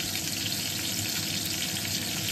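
Tilapia fish frying in a small amount of oil in a pan, a soft continuous sizzle with no talk, heard close.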